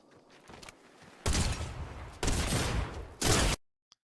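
Loud gunshot bursts in the battle royale game Fortnite, three dense blasts of firing at close range with short gaps between them, then an abrupt silence.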